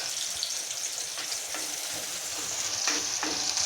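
Frying and stirring in a pan while cooking aloo kurma, a steady close sizzle with a few scraping stirs, no talking.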